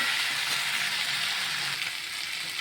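Water poured into a pan of boiled, softened potatoes for an aloo paneer dish sets off a loud, steady hiss of sizzling that eases off slightly toward the end.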